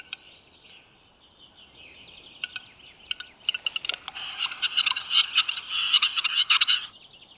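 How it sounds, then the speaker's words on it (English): Dry clicks build into a rapid series of pops and gurgling, rattling notes, a capercaillie's courtship display call carrying through a quiet Alpine mountain forest at first light. "The capercaillie, Europe's largest game bird, performs his courtship dance for the ladies."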